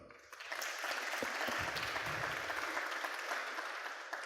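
An audience at a conference awards ceremony gives a warm round of applause for a city hall prize winner, a thick wash of clapping that swells quickly and holds strong, with faint voices mixed in.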